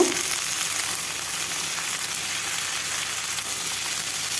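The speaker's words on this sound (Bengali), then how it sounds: "আলুটা দিয়েও কিছুক্ষণ সময় ভেজে নিতে হবে এইভাবে আমি ভাজতেই থাকবো" Potatoes and ridge gourd fry in a pan with a steady, loud, close sizzle that never lets up, and no voices are heard.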